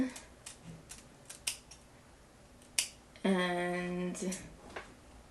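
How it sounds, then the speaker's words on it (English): Scissors snip excess lace from around the ears of a 13x4 ash blonde highlighted lace front wig, giving a few sharp close clicks followed by a longer buzzing rasp of the cut, with faint talk around it. "cut off the excess lace from around the ears"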